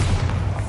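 A Bombarda explosion spell in Hogwarts Legacy lands as a single short, low, muffled thud-boom, heard briefly and up close.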